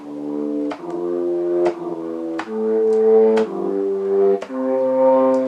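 A synthesized flute-like tone on a MIDI keyboard plays in the fourth octave, a sequence of sustained notes with sharp attacks, each held about a second, loud and close with no voices.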